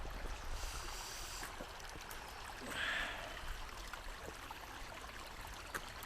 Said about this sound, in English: this is the river by the road